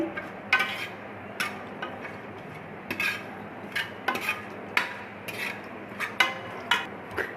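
Whole spices fry in a spoonful of oil in a pan for mutton champ curry, giving a steady soft sizzle broken by regular sharp clinks of a spoon against the pan, with no talking.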